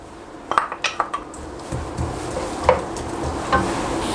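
Two small chopped onions go into about half a cup of hot oil in a wok for ginger chicken, with a soft sizzle under clinking strokes of a metal spoon against the pan.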